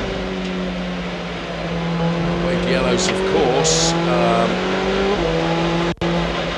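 A Ferrari Challenge race car engine screams from onboard at Monza, holding steady pitch with shifts and a brief squeal, while a commentator talks over the loud, continuous roar.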